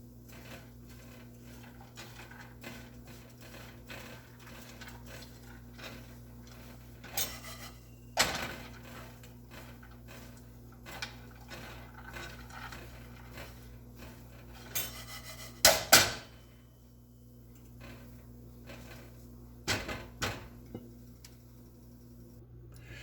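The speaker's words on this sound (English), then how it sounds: "just move them around because you want all sides of the pecans to toast" Pecans stirred in salted butter in a pan over very low heat, with scattered scraping and clinking of a utensil against the pan over a low steady hum, growing louder in a few sharp clusters.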